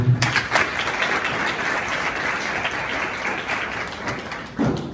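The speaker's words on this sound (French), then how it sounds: "je vous demande s'il vous plaît d'applaudir pour vous" Students fill a university conference hall with applause, a dense, continuous clatter of many hands that swells at the start and briefly surges again near the end.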